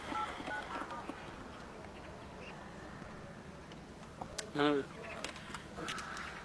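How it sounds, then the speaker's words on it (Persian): A phone keypad is dialed to call family in a rural Persian nomad setting, with a short burst of rising tones standing out briefly against faint outdoor background noise. "محمد جان من زنگ بزنم"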